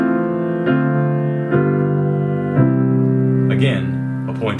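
A piano plays an eight-measure group from Bach's Prelude in C, with sustained chords changing about once a second and ringing on, close and fairly loud.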